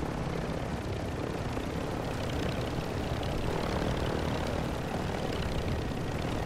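Helicopter in the Call of Duty MW2 DMZ video game, a steady, dense rotor and engine roar holding at an even, fairly loud level throughout, with no voices over it.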